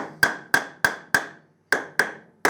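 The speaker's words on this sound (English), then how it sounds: "get yourself a block of wood and a little hammer, and just tap it down" A small hammer tapping on a block of wood to seat motorcycle head bearings, seven sharp ringing knocks in an even rhythm with a short pause midway, close by.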